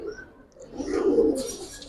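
A Giribaz pigeon coos once, a low, soft rolling call rising in the middle of the short stretch, with faint background chatter from a pigeon seller's collection.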